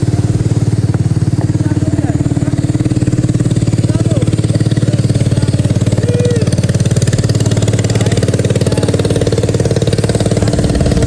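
A motorized wooden outrigger boat (bangka de motor) runs on open water, its engine a loud, steady droning rumble with a rattling edge that holds without pause throughout.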